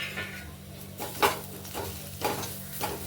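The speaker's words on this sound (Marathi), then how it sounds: "आणि वांगी त्याच्यात सोडून घ्यायची." Roasted eggplants stuffed with masala frying in a pan, a soft steady sizzle with occasional stirring scrapes and light clinks of utensil against the pan, no voices.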